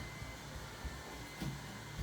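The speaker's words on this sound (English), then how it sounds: "Where did you get the vacuum cleaner from?" A household vacuum cleaner runs steadily at home, a continuous broadband whirring drone at constant level that stays fairly close throughout, with a couple of faint thumps beneath it and no speech.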